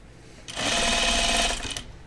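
A sewing machine edge stitches down a turned-under pocket edge in a single short, steady run of close stitching lasting about a second.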